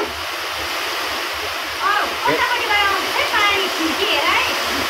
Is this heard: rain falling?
yes